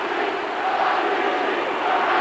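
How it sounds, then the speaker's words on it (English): Wrestling arena crowd on its feet at a WWF Sunday Night Heat event, a steady, dense roar of many voices chanting a wrestler's name, loud and continuous throughout with no clear individual words. "listen to the crowd on its feet, chanting Rikishi's name"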